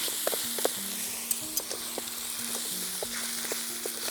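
Food frying in a pan over an outdoor camp cooker gives a steady sizzle with scattered pops and crackles, close up and moderately loud, with no talking.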